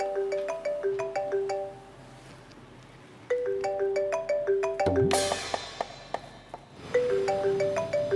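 A phone ringtone plays a repeating bright melodic pattern in several bursts with brief pauses, loud and close, with a short sweeping chime in the middle and no talking over it.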